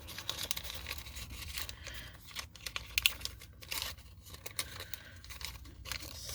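Origami paper being folded and creased for a butterfly, soft crinkling and rustling heard close up and fairly quiet, with no talk.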